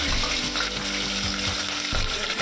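Onion and whole spices (cinnamon, cloves, cardamom, pepper) fry in hot oil for mushroom biryani, a loud, steady close sizzle that fills the whole stretch with faint stirring scrapes underneath.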